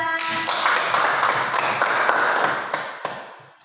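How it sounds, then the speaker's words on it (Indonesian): A classroom full of students applauds a presenting group, a dense burst of close hand clapping with rhythmic peaks that tapers off toward the end. "tepuk tangan buat kelompok 2"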